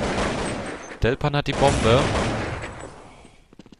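Sharp bursts of gunfire in a Counter-Strike match on de_nuke, loud and close, several rapid shots over a noisy game backdrop while a commentator talks in German.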